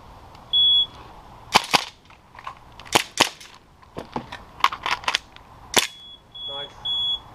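Pistol shots fired during a practical shooting (IPSC) stage, a start beep followed by a string of sharp, loud cracks in irregular pairs and singles, ending with another electronic beep from the shot timer.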